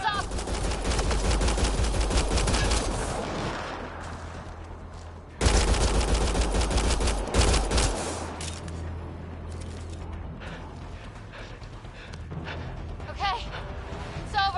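Video game gunfire, loud dense automatic bursts and rapid shots filling most of the stretch, easing off midway then returning, with a voice briefly shouting among the shots.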